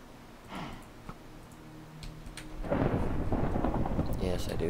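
Thunderstorm in modded Minecraft: a low rumble of thunder builds and breaks into a loud, sustained roll with steady rain hiss.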